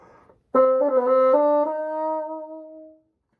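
A short, reedy bassoon phrase played alone: a held note, a quick ornamental turn of several notes, then a long sustained tone fading out.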